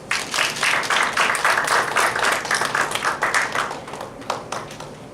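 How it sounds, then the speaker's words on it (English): A room full of people claps at a Toastmasters ice-breaker speech event, steady applause for about four seconds before thinning to a few scattered claps. "Please give a round of applause."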